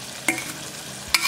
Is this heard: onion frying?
yes